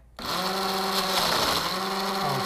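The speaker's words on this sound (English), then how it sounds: "It's got a built-in blender, which is why I wanted it to begin with" A battery-powered blender built into a cooler runs at the beach, a loud steady motor whir with a high, even pitch that holds continuously after a sudden start.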